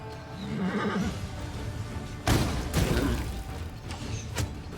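Plagued horses in the video game Pathfinder: Wrath of the Righteous give loud, close neighs and whinnies during a battle, with thumping hooves and impacts in the background and no talk.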